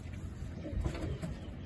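A flying pigeon in a loft cooing low and soft against a steady background hum, faint and somewhat distant.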